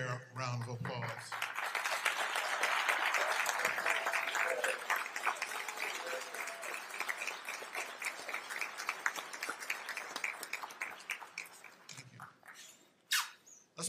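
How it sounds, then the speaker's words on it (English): Convocation audience applauds the Board of Trustees, a dense wash of clapping that swells then thins into scattered claps, with a voice briefly audible near the end. "Will you join me in a round of applause as they stand?"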